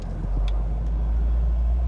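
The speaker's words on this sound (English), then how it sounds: "We're just going to let the clutch out. And we're moving without even touching." A 1969 Shelby GT500 creeping off as the clutch is let out, giving a low, steady engine rumble close by with no voices.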